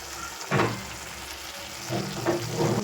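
Eggplant with sugar and salt sizzles steadily in a pan while it is stirred, with scraping bursts of stirring rising over the constant frying hiss.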